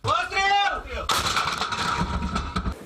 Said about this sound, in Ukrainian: Їхня артилерія теж стріляє